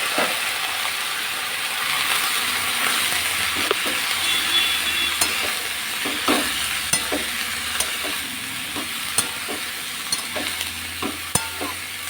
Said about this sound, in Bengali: বাঁধাকপি ঝালটা কড়াইয়ে হচ্ছে